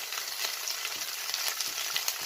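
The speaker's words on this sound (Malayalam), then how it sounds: "ഇഞ്ചി വെളുത്തുള്ളി നല്ല വെള്ളമയെല്ലാം പോയി മൂപ്പിച്ചെടുക്കണം." Ginger and garlic frying steadily in hot oil for a chicken pickle, giving a continuous close sizzle with small crackling pops throughout and no voices.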